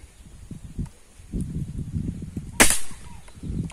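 A single sharp rifle shot cracks out partway through, loud and sudden, over muffled outdoor rustling and low thumps.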